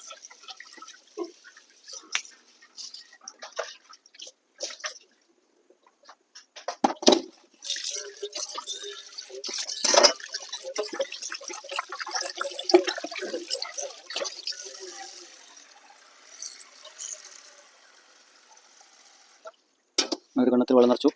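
Tap water runs and splashes into a vessel, filled for washing meat, in uneven bursts with short pauses, fairly close.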